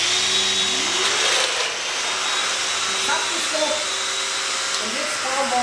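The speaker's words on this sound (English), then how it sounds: "Now I can lower my machine to the chosen setting to the shelf and cut the tenon holes." A Festool DOMINO joiner cuts tenon holes into a wooden shelf, its motor whining steadily with a loud broadband whir and brief shifts in pitch as the cutter plunges.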